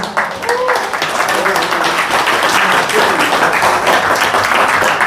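Steady, full applause from a large audience at a lecture during a Korean community association's convention, loud and sustained throughout with no break.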